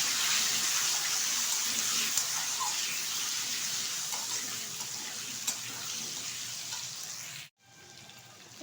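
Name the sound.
ivy gourd and potato pieces frying in a wok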